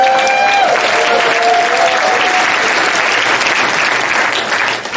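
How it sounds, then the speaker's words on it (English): A church congregation at a joint Sunday celebration breaks into sustained, dense applause that fills the room for several seconds. A few brief tonal sounds ring faintly at the start, and the clapping fades slightly near the end. "And then David, you're going to get a lot of applause anyway."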